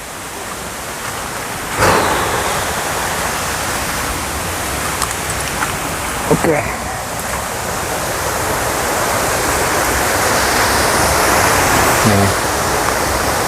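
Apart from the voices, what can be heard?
waterfall and river flowing, Curug Paniis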